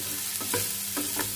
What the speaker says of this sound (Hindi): यहाँ पे प्याज डाल देंगे